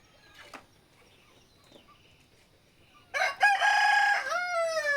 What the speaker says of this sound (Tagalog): naririnig yung tilaok